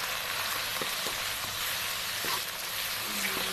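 Onion and tomato frying in oil with turmeric, red chili powder and salt in a pan, a steady close sizzle throughout with a few faint clinks of stirring.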